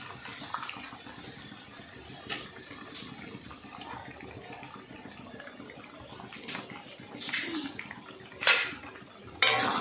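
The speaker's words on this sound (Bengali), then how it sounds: "এবার মশলা জলটা ফুটে উঠে গেছে ভেজে রাখা চেঙা মাছগুলো দিয়ে দিচ্ছি" Fried chenga fish going into boiling spiced water in a cooking pot, with close metallic clinks of a pot and utensil, soft watery splashes and a few sharper clatters near the end, no voices.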